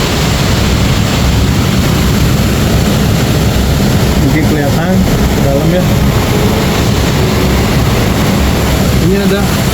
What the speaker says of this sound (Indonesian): Maaf kalau suara saya berbenturan dengan suara air terjun.